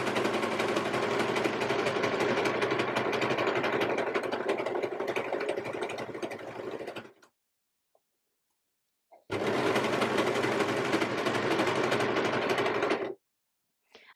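An overlocker sewing machine runs in a steady, loud mechanical whir for about seven seconds, stops, then stitches again in a second burst.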